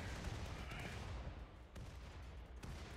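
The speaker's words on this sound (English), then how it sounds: "our spinal gun is still firing" Rapid volleys from a spinal gun in a RimWorld mech hive battle, dense overlapping booms and crackles sustained throughout with a couple of sharper reports standing out, loud and continuous.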